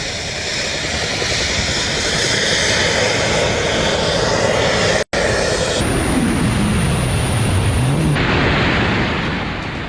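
A jet suit flies under roaring jet engines, a loud, continuous, close-up roar that persists throughout with a brief cut midway and a shifting whine afterward.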